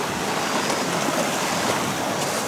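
A river flows beside a hiking trail in Japan, a loud, steady rush of water with an even, hissing wash that never breaks, with no voices over it.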